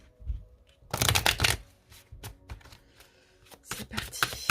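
Tarot oracle cards are shuffled by hand in several quick riffling bursts, close and crisp, with soft pauses and light handling taps between them.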